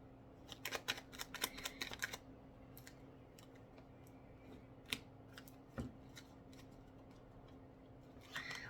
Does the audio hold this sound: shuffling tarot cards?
yes